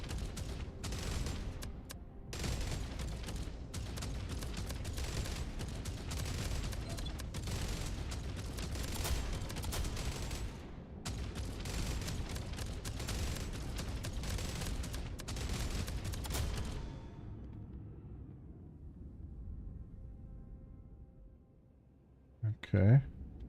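Turret gunfire from the More Jump Ship game demo rattles in dense, rapid bursts for about seventeen seconds before cutting off into a quieter tail, with a voice talking over it.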